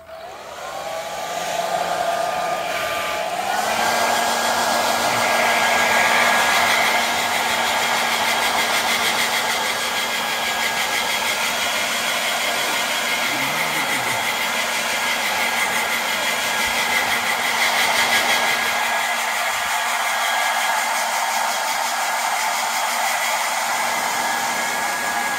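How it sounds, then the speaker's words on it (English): Old worn Remington hair dryer blowing continuously and loudly, starting up with a rising whine then holding a steady airy roar with a constant motor hum, used to dry a layer on a leather car seat bolster. "take the old busted hairdryer that you nicked from your missus"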